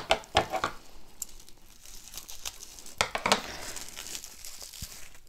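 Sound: tissue paper crinkling during unwrapping

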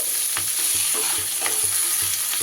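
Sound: stirring vegetables cooking in covered pan on low flame

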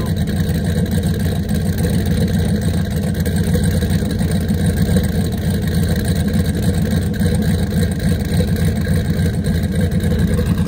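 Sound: car engine idling

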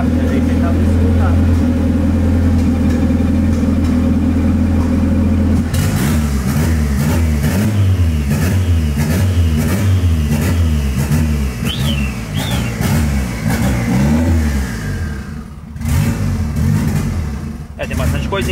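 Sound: engine revving while adjusting the idle

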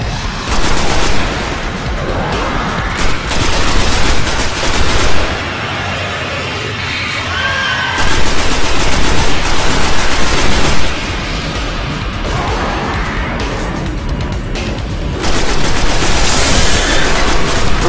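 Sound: needle gun gunfire in the video game Destiny

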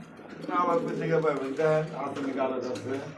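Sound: pigeons cooing at a pigeon farm

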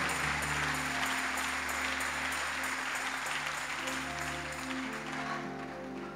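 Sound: louder applause

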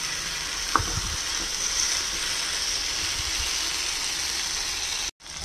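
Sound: chicken sizzling while being sautéed in a pan

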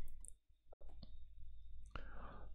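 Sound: computer mouse click on a software button

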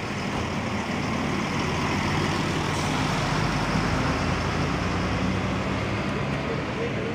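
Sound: intercity bus departing from the terminal

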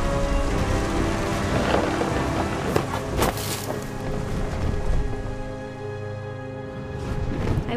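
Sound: thunderstorm with rain in the video game What Remains of Edith Finch

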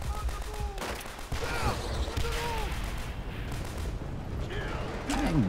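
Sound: machine gun (MG) firing in Call of Duty: World at War video game

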